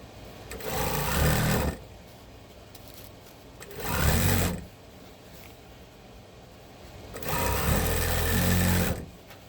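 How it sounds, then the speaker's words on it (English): Sewing machine stitching canvas and fleece for a tote bag, three loud bursts of rapid stitching separated by quiet pauses, close and clear. "we're going to sew"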